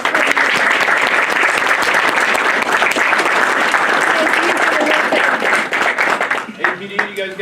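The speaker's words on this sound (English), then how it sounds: "let's give her a big round of applause" Audience applause at a community event on combating mental health problems: loud, sustained clapping from a full crowd fills most of the stretch, then thins and fades near the end.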